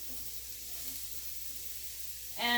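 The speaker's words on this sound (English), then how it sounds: "so now I'm adding my onions. Hear that sizzle?" Onions, then peppers, sizzling in a hot pan while a chickpea and spinach coconut curry is being made: a steady close hiss of frying with a brief louder burst near the end, and no voices.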